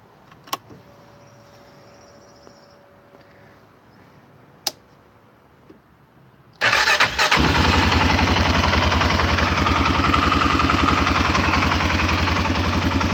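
A 2017 Arctic Cat VLX 700 ATV sits quiet with a few faint clicks and a short whine, then the engine cranks and catches abruptly into a loud, steady, close idle that holds to the end.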